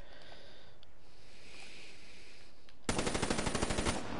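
Rapid automatic gunfire from a first-person shooter video game bursts in after a stretch of quiet ambience, a loud, tight rattle of evenly spaced shots that runs steadily for more than a second.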